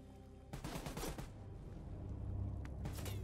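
Gunfire in the Call of Duty Black Ops 3 video game, a few sharp bursts of automatic shots early and one near the end, over a low rumbling game ambience, fairly faint overall.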